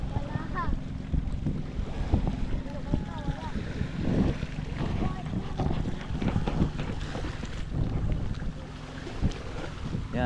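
Strong gusting wind buffets the microphone by the sea ahead of a typhoon, with boats and surf nearby and someone talking over the roar.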